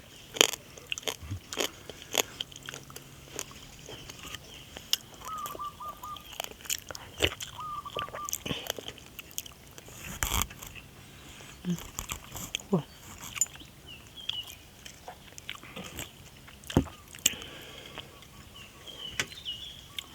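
Close, crisp crunching and biting as boiled frogs with eggs are chewed, irregular loud crackly bites scattered throughout with brief pauses.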